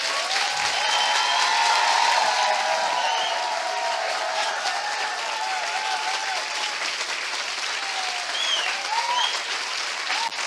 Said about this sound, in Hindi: क्या हम अपने महान परमेश्वर के लिए एक जोरदार ताली बजा सकते हैं?